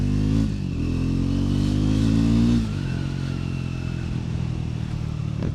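A 2024 Triumph Scrambler 400 X motorcycle engine runs steadily and close by while riding, rising to a louder rev, then easing to a lower, even drone with a faint clatter.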